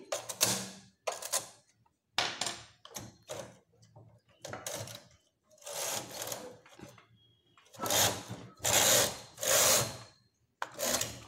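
A knitting machine working rows of stitches on a woollen garment, with repeated loud mechanical clattering sweeps separated by short pauses, close and with no talk.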